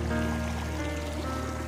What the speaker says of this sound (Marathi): आमचा धबधबा